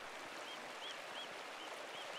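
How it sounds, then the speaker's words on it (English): A waterfall in the Pentiment video game, fed by mountain snowmelt above an abbey, heard as a steady, faint broadband rush of water with small chirps over it. "The waterfall must flow down from the snowmelt in the mountains above the abbey."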